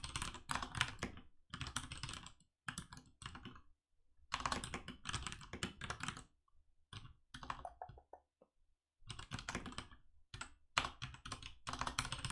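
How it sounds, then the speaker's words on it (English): Rapid clicking of keys on a computer keyboard, typed in uneven bursts with short pauses, close and fairly quiet. "Typing is not a strong suit today, it seems."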